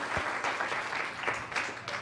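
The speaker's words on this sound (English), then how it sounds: "Can we give Reverend Bonnie just a big round of applause for everything she does?" Church congregation clapping for a reverend, a dense burst of applause from many people, moderately loud and sustained with a few sharper claps standing out.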